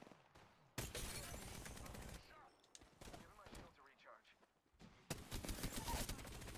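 Gunfire in a video game battle, several loud bursts of rapid shots separated by quieter gaps, with a voice talking between them.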